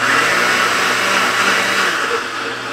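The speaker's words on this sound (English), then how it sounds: "we're gonna go ahead and blend all of that together" An electric blender runs steadily, whirring loud and continuous as it blends a pecan atole mixture, with the motor tone dropping slightly near the end.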